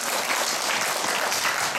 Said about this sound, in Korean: 참미 봉사자에게 사랑의 박수로